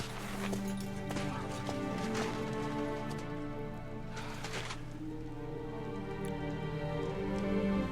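Horse hooves clip-clop steadily in Kingdom Come Deliverance II, a rhythmic, fairly faint patter of hoofbeats over a soft, rain-like background wash throughout.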